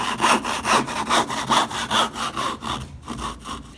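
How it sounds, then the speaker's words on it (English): A hand saw cuts wood to shape a dovetail joint, working out a corner in quick, even back-and-forth strokes up close. About eight rasping strokes are followed by a short pause and a few more strokes, with no talking. "I'm just cutting out the corner here to make that shape."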